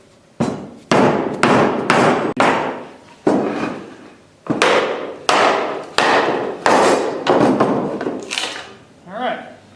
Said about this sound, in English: We're just hitting it with one of these chisels real quick.